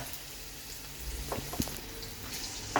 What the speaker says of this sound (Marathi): आपण फोडणी तयार करतो तसं हे केलं आहे थोडंसं गुलाबीसर कांदा होईपर्यंत आपण ते ठेवणार आहोत